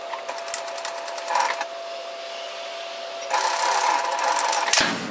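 A sewing machine stitching slippery fabric for a tiered dress runs in a steady, close mechanical whir, its pace picking up near the end before it stops with a thunk.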